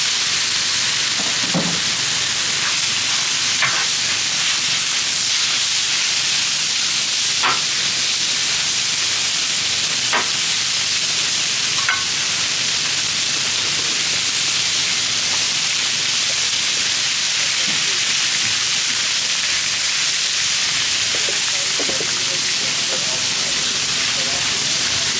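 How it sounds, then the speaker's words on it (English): Sirloin steak laid onto an oiled Blackstone griddle, giving a loud, constant broadband sizzle and hiss that runs unbroken throughout, with a few faint clinks and knocks on top. "throw some oil down. We'll get that sirloin steak"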